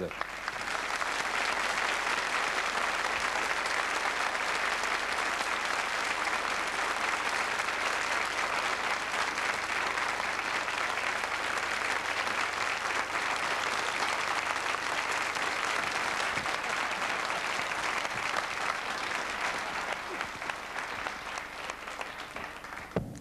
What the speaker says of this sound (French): on ne peut pas rendre hommage à l'opérette sans tirer un grand coup de chapeau à Monsieur Francis Lopez, que je vous demande d'applaudir maintenant